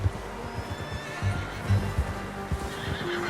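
A horse in the Red Dead Redemption 2 video game whinnies and snorts close by, with hooves clip-clopping in short bursts throughout.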